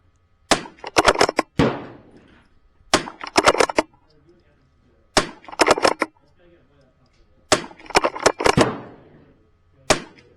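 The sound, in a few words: repeated .22 LR gunshots during a shooting drill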